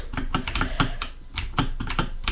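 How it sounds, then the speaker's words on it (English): Fast, loud typing on a clacky computer keyboard during a Minecraft minigame session, with sharp keystrokes in quick irregular bursts, close to the mic and alone without talk. "Loud keyboard. Shush keyboard. Lullaby keyboard."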